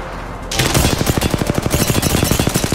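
Rapid automatic gunfire from an Apex Legends match, a dense string of loud, evenly spaced shots bursting in after half a second of quiet and continuing steadily to the end.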